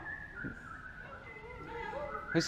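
A child whistles at a workshop, imitating a sound: a few short, wavering whistled notes that slide up and down, close by and fairly quiet.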